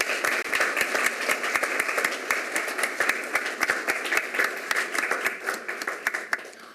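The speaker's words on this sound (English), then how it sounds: "If we could just have one more large round of applause for all of our honorees today." A large audience at a mayor's service awards ceremony gives a sustained round of applause for the honorees, steady dense clapping with no one speaking over it.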